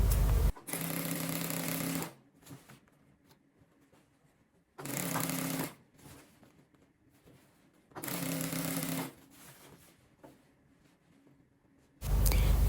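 A sewing machine stitches folded damask fabric in three long, loud, steady whirring runs, each lasting about two seconds, separated by quiet pauses with faint handling noise.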